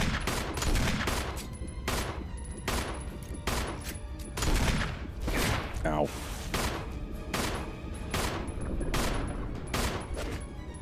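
Gunfire in the Resident Evil video game, a rapid series of loud, sharp shots with short pauses between them, repeating throughout.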